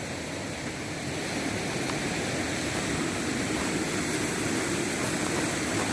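Strong river water rushes over the rocks at a quarry in San Manuel, Pangasinan, a loud, dense, continuous roar that holds steady throughout with no voices.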